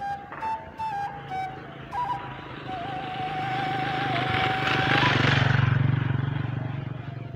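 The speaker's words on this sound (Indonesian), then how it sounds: "Awas nyebrang-nyebrang ada motor." A motorcycle passes on a road beside rice fields, its whiny buzzing engine swelling steadily from moderate to loud and close before easing slightly.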